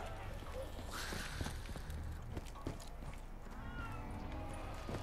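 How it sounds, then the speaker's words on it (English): Indoor cat meowing at a door, faint and brief, heard under the sounds of a Call of Duty Black Ops 3 Zombies game. "Oh, the cat's meowing at the door over here."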